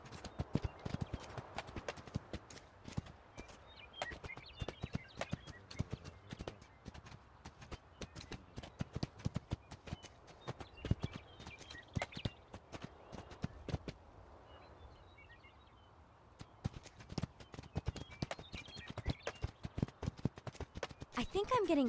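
Hooves beat in a quick, continuous clip-clop as a horse gallops in the video game Spirit Lucky's Big Adventure, with faint background sounds around it and a brief lull partway through before the galloping resumes.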